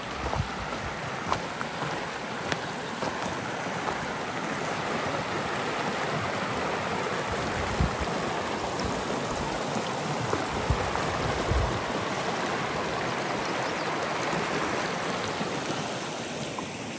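The East Walker River in Nevada flows beside a remote riverside campsite, a steady broadband rush of moving water that stays constant and fairly close throughout, with no talking over it.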